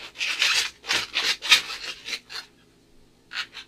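A modelling balloon is being twisted into a T-Rex head, giving a burst of close, squeaky rubbery rubbing strokes in quick succession, then a short pause and two more squeaks near the end.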